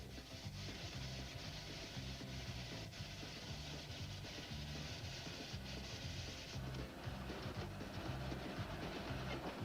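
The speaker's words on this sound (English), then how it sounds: "The tender receives a new load of coal." Coal pours into a steam locomotive's tender on a mountain steam railroad with a loud, continuous rumbling rush and a rhythmic low pulsing that runs throughout.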